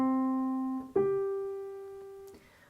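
A piano sounds a melodic fifth, C and then G, as two single notes one after the other. The first is held briefly and the second is struck and fades slowly, quiet and close.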